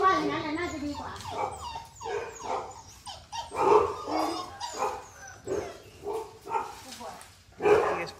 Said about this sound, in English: Obviously all the other dogs kicking off.